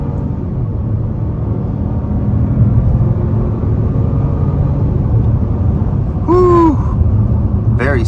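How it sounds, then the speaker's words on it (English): A 2024 Buick Encore GX Sport Touring accelerates, heard from inside the cabin as a steady, loud engine and road rumble, with a brief rising squeaky whistle about three-quarters of the way through. "Very solid acceleration here."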